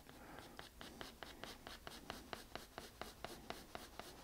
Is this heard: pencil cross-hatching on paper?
yes